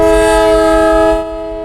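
A Cuyahoga Valley Scenic Railroad train horn sounds a single loud, steady chord up close, holding for just over a second before cutting off into a lower rumble.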